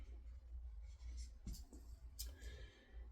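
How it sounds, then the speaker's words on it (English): Pen writing on a dry bay leaf: faint, close scratching strokes with a few sharper scrapes over a low background hum, no speech. "So on my bay leaf, I am going to put for my community. So I'm going to write community."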